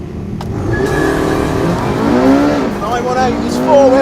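BMW race cars launch hard from a standing start, their engines roaring loudly and climbing steadily in pitch as they gather speed, with a slight rise in volume toward the end.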